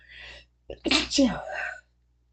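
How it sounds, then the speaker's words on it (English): A single sneeze, preceded by a short intake of breath, loud and close, then silence. "Feel a sneeze. Excuse me."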